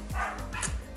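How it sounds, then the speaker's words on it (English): Neighborhood dogs bark through open windows, with two or three quick, fairly close barks packed into a single second. "I have the windows open so you can hear every dog in the neighborhood bark"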